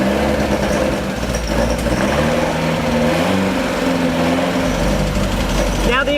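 Beck 550 Spyder replica engine warming up, a steady loud idle with rising and falling revs throughout, a brief high whine near the end.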